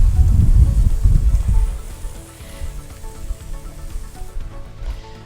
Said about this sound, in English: So the whole idea is to get a good sear on the ribs and a good sear on the burger.